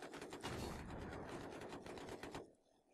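Rapid automatic gunfire in the Battlefield 3 multiplayer shooter, a fast rattling burst of shots that runs steadily for a couple of seconds and then cuts off into quiet.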